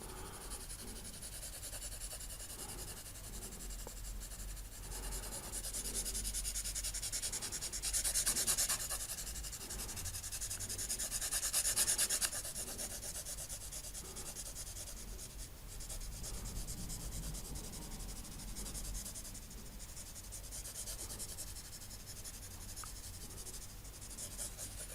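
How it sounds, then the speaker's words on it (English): Charcoal pencil shading paper: a steady, dry scratching rub that runs the whole time, rising slightly in a few stretches, with no voices. "if I shade it in here in a bit of with a charcoal pencil"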